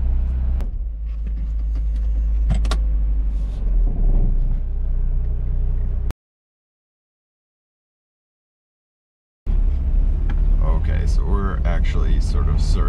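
A Mazda Miata with an automatic transmission runs with a steady, loud low rumble that surges and sags as it loses power, cutting out to silence midway before the rumble returns.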